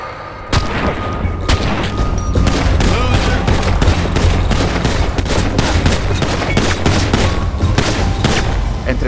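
Dense, loud gunfire in GTA 5 with a clown character, rapid overlapping shots and booms in a sustained barrage lasting the whole stretch, no talk.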